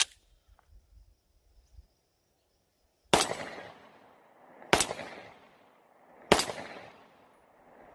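Three loud pistol shots at a 6-inch steel target 15 yards away on an outdoor range, each a sharp crack with a ringing tail, spaced about a second and a half apart after a quiet lead-in.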